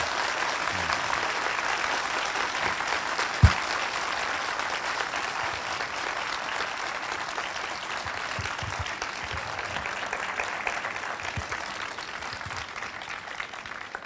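A large audience applauds at the Delhi Literature Festival, a steady dense roar of clapping that holds evenly for a long stretch, with one sharp thump near the start and no voices over it.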